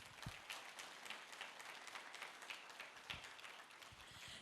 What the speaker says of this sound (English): please give all of us here a big round of applause